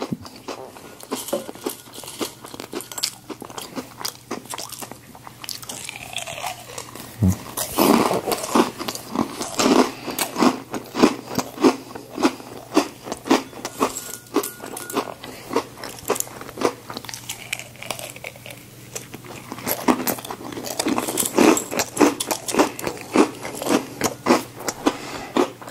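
Crunchy breakfast cereal is chewed close to the microphone, with steady rhythmic crunching and crackling bites repeating throughout, loud and alone.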